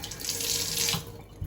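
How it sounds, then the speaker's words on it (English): Water gushing steadily from a tap after a plumber turns the supply back on, a loud continuous hiss and splash close to the listener. "cold and hot water on."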